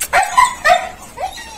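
A dog gives a few short, close barks followed by a rising whimper, the sounds coming in separate bursts with brief pauses between them and no talking.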